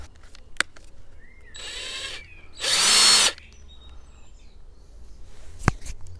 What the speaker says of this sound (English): we are drilling metal here